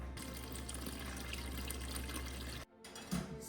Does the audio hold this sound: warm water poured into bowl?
yes